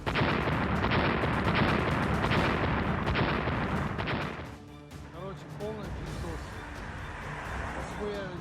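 Loud, dense bursts of booming blasts and gunfire roll continuously, then ease into quieter distant rumbling with voices talking over it.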